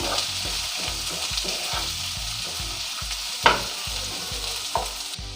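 Sliced onions sauté in a pan for a groundnut kulambu with a soft, constant sizzle, broken by regular scraping strokes as they are stirred. A sharper clank stands out partway through. No voices are heard.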